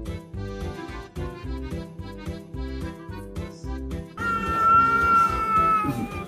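Cats fight and meow, making loud, drawn-out yowls and caterwauling that swell toward the end, set against a rhythmic musical backing.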